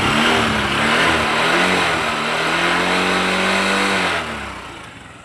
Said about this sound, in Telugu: ఇంజిన్ కానీ స్టార్ట్ చేసి చూపిస్తాను